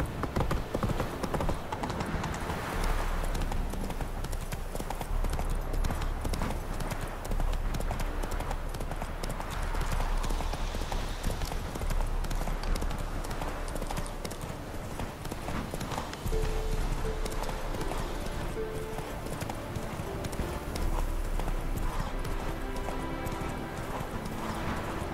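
Roach, a horse in the video game The Witcher 3: Wild Hunt, gallops with a steady, loud run of hoofbeats. Game music and ambience play beneath throughout.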